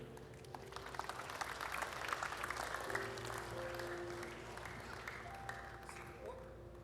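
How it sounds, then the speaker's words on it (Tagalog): Sustained crowd applause fills a church service, steady and full throughout, with instrumental tones and voices blending underneath. "bigyan natin ng malakas sa palakpak ang ating Diyos sa dakil at tapat"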